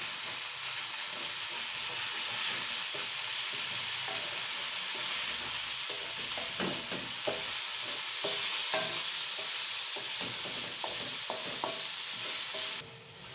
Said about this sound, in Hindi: अभी हम चिकन को जो है ना इसमें अच्छे तरीके से भून लेंगे